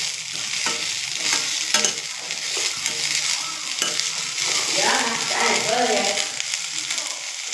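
Avarai broad beans sauté in a hot pan, a steady sizzle of frying punctuated by scraping stirs of a utensil against the metal, with a voice speaking briefly over the cooking.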